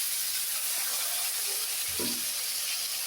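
Fish frying in hot oil makes a steady, even hiss, with faint low clunks of a utensil or pan partway through.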